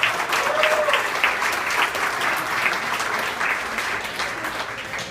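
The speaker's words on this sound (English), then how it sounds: "So everyone give a round of applause for that as well." Wedding guests at an evening reception break into sustained applause, a thick wash of clapping that starts strong and tapers slightly toward the end, with a few murmured voices mixed in.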